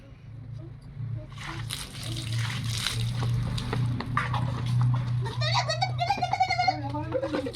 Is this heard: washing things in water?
yes